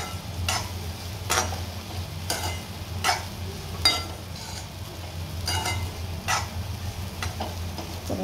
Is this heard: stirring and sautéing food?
yes